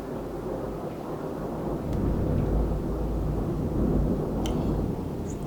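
Low rolling thunder rumbles steadily through the whole stretch, swelling slightly midway and again near the end, with no voices over it.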